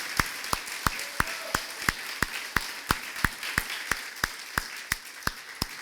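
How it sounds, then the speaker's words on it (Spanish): A church congregation claps together in a steady, even rhythm of sharp, evenly spaced hand claps over a soft background hum, with no talking. "Dale un aplauso al Creador"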